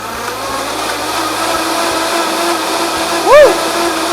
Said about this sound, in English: the next step, we simply turn our blender on